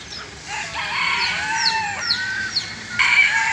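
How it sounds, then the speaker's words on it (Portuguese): A hen with two chicks in a park clucks and peeps repeatedly up close, soft hen calls mixed with high thin chick cheeps over quiet outdoor background, no talking. "Olha a galinha com os dois pintinhos."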